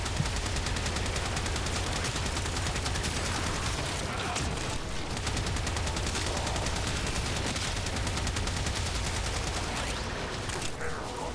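Sustained rapid gunfire from the Warframe video game, a continuous dense stream of shots with the trigger held down, loud and steady throughout with brief heavier bursts.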